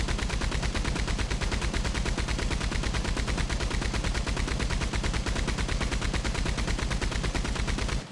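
Relentless automatic gunfire in the Red Dead Redemption 2 video game, a dense, loud, rapid stream of shots rattling on without a break for several seconds.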